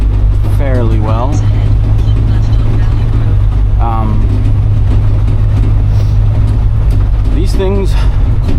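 A 1988 Grumman LLV right-hand-drive mail truck drives along, its engine a loud, steady low drone heard from inside the cab, with someone talking intermittently over it.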